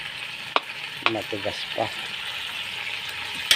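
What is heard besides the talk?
pinakbet vegetables, squash and eggplant, cooking in a pan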